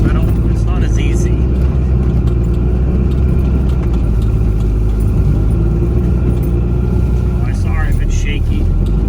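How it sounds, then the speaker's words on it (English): A Dodge Cummins truck plowing snow gives a loud, steady low engine rumble with scraping and rattling throughout, while someone talks over it. "see the Dodge Cummins plowing"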